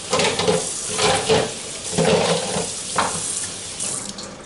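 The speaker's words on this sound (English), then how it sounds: "I'm going to go ahead and rinse these under some cold water" Fresh oysters being rinsed under a cold kitchen tap: a steady splashing stream of running water over the shells, close and loud, with shifting surges as they are turned by hand.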